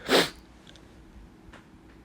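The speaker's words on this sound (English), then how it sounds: "Excuse me, I had to sneeze." A single sharp sneeze bursts out at the start, followed by quiet room tone with a couple of faint sniffs.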